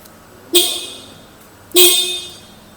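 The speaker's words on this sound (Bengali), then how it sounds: "লাউড হর্ন আপনি এখানে পেয়ে যাবেন" Horn of a 2026 Yamaha Fascino 125 Hybrid drum-variant scooter sounds two loud, bright honks about a second apart, each sharp-edged and fading briefly, with quiet background between.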